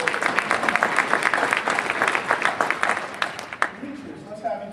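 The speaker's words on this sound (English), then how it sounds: "Let's give him a round of applause" Audience clapping at a Phi Theta Kappa induction ceremony after a student's jump, sharp irregular claps close by that thin out toward the end, with voices mixed in.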